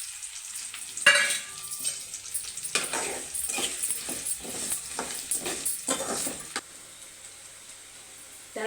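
Mustard seeds, garlic and onions fry in a pan. A sharp burst of sizzle opens, followed by rhythmic stirring scrapes and spattering crackle that fade to a quieter simmer near the end.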